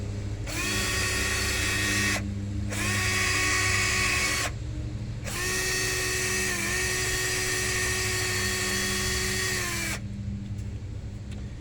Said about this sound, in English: I am going to make sure that it is cleaned up on the smooth spots where the bushings go with this wire wheel.